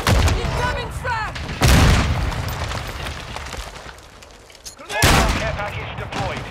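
Call of Duty: Modern Warfare II match with a frag grenade blast and gunfire: loud booming explosions and crackling bursts of shots, close and heavy, with in-game voices shouting callouts in between.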